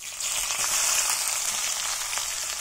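Onions hit a pan over medium gas for a lotus stem curry and fry with a bright, even hiss. The sizzle is close and steady with faint crackles, and no voices are heard.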